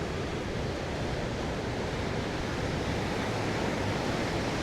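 Ocean waves washing up on a beach at sunset, a dense, unbroken roar of surf with wind buffeting the microphone, loud and close throughout with no voices.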